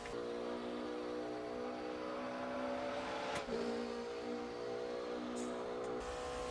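Exterior engine note of a race car in the RaceRoom racing game, a steady high harmonic drone that holds at a constant pitch with a brief dip and snap midway, moderate and continuous without talk.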